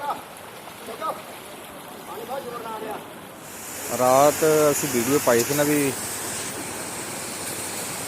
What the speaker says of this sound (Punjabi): ਇਹ ਸਾਰਾ ਪਾਣੀ ਸਾਡੇ ਪਿੰਡ ਦੇ ਵਿੱਚ ਨੂੰ ਜਾ ਰਿਹਾ ਹੈ